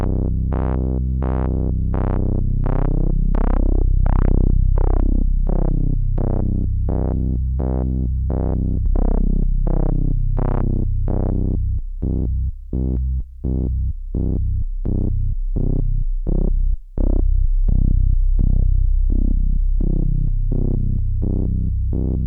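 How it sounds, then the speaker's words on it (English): A modular synthesizer with a second oscillator added plays a loud, sustained, buzzy tone that pulses and sweeps in a regular rhythm, the beating pattern shifting over time, with no other sounds present. "let's chuck in a second oscillator"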